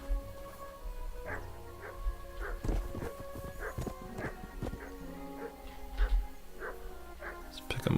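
Mutt the dog barking in Kingdom Come Deliverance 2, a handful of short yips and barks spread over game ambience, with horse hoof clops and someone speaking in places.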